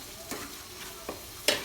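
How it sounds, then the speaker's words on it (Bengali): Fried garam masala spices and ground nut paste being stirred in a pan for chicken pulao, heard as a few soft spatula scrapes over a low, steady sizzle, with a sharper scrape near the end. "দিয়ে নেড়ে চেড়ে নেব,"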